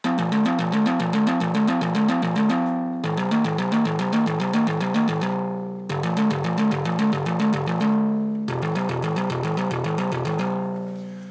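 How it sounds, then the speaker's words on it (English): An Arturia MiniBrute 2 analog synthesizer plays a repeating arpeggiated pattern in four long phrases, bright and buzzy with rich harmonics, each phrase ending in a brief decay. "it wants to be arpeggiated or sequenced"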